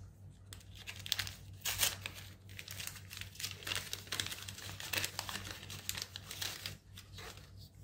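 Paper wrapping around hand sewing needles crinkles and rustles as it is unfolded, a close, busy stream of crackles with no talking.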